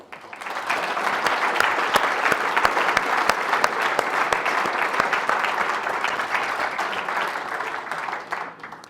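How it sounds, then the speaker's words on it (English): An audience at a university inaugural lecture breaks into long, steady applause, thick clapping with sharp individual claps throughout, tapering off near the end. "giving a round of applause for my mom and my brothers who are not with us today"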